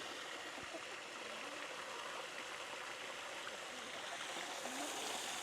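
Steady splashing trickle of water running continuously into a chicken waterer, fairly close, with no talking.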